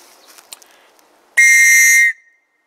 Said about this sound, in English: I'm going to blow this and then I'm going to blow the Fox 40 and compare